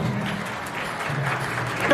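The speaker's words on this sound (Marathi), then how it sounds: "आज एकदा जोरदार टाळ्या ललित भाऊसाठी" Audience applause at a live singing program in Pune, a steady moderate wash of clapping that swells slightly near the end, with no voices over it.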